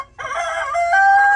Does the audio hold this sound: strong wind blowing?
no